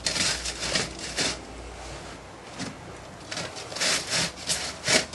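Used foundry sand mixed with bits of brass and aluminium is shaken through a riddle, giving close, gritty rasping strokes in rhythmic bursts with brief pauses, no talking.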